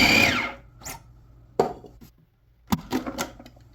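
A Cuisinart Classic 7 Cup food processor shreds potatoes on its finer shredding disc, giving a loud motor whir at the start followed by short, sharp bursts of clattering and grinding with gaps between them.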